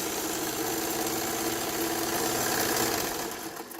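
A sewing machine runs a quick 5/8 seam, a fast steady mechanical chatter of stitching close by for several seconds, easing off at the end with no speech.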